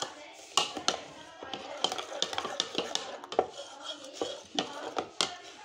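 Spoon stirring raita with salt in a bowl, irregular close clinks and scrapes against the bowl.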